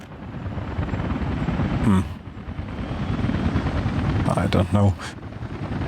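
Helicopter rotor drone from Workers & Resources: Soviet Republic runs steadily throughout, with someone talking briefly over it and a couple of short bursts of louder mechanical noise.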